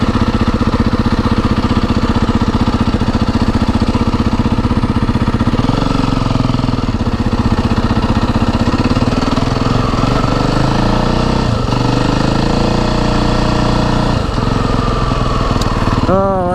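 A motorcycle engine drones loud and close throughout a solo ride, with a rough, pulsing mid-range roar that rises and falls as the rider shifts, steady and without talk.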